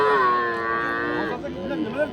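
Calves and cows lowing at an Oqtepa livestock market in Bulungʻur district: one long, loud, close moo held for more than a second, then softer, wavering calls from other animals.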